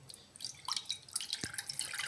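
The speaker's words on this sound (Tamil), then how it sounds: "அதே கப் அளவில் ஒரு கப் தண்ணி ஊற்றிக்கிட்டேன்." Water being poured into a heated pan while making crispy rice flour evening snacks, heard as soft dripping and splashing liquid sounds with a brief sharp sizzle, fairly quiet and close.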